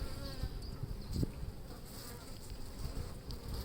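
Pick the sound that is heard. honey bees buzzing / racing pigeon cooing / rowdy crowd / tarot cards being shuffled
honey bees buzzing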